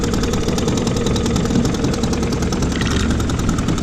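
A small 2 hp Spirit outboard motor runs steadily on an 18-foot Clipper canoe, giving a continuous buzzing, knocking engine drone at constant loudness with no pauses.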